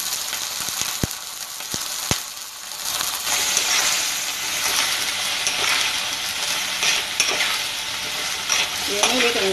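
Banana flower sautéing in hot oil with onions, a steady sizzle and frying hiss running throughout with occasional sharp clicks of a stirring spoon against the pan, close and fairly loud.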